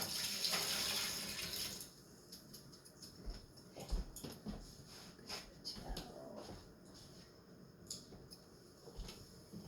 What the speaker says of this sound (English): I'm going to wash the broccoli off in the pan.